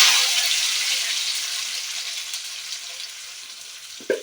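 Red capsicum, onion and tomato sizzle steadily in hot oil left from frying meatballs, a dense continuous hiss that eases slightly, with a brief clatter near the end.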